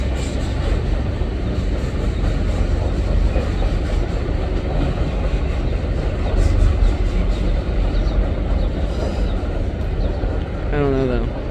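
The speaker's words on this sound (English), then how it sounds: "It could be the trash train." A Norfolk Southern freight trash train charges northbound toward Hagerstown, a loud continuous rumble and roar of passing cars rolling close by, with a faint rising whine near the end.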